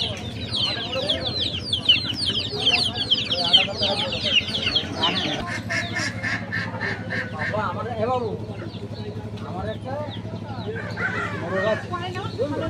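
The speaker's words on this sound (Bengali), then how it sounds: "আর সামনেও কিন্তু আছে মোরগ হাঁস মুরগি বিক্রি হচ্ছে।" Roosters, ducks and chickens for sale at a busy rural village market, with repeated clucking and crowing calls mixed into a crowd of people talking nearby, the birds fairly close and prominent.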